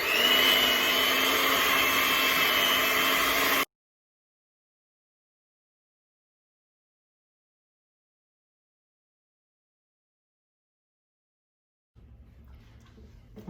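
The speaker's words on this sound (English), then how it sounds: "So I want to whisk it till it turns pale in color." An electric whisk beats shortbread cookie dough with a loud, steady motor whine, cuts off abruptly into silence, then faintly starts up again near the end.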